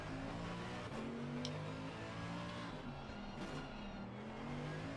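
A race car's engine runs at full throttle around Oulton Park in a racing video game, a steady, droning roar whose pitch rises and dips slightly as it holds the line, with no talk.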